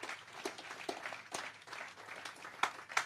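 Applause from the audience at the 21st H. Lavity Stoutt Commemoration celebration, a moderate, somewhat sparse patter of clapping hands with a few sharper individual claps standing out near the end.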